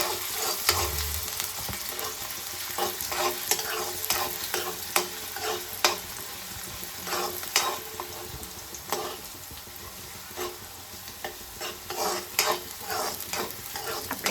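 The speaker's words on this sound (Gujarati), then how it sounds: "હવે નાખી દઈશું કાંદા. સારી રીતે મિક્સ કરી લઈશું." Chopped onions fry in an oiled pan for ringan no olo, a spiced eggplant dish, while a spoon stirs them, producing steady close sizzling broken by repeated scraping strokes against the pan.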